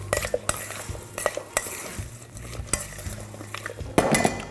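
Utensils clink and scrape against a bowl in a series of sharp taps while a tomato-anchovy salad with olive oil is tossed and mixed, close by.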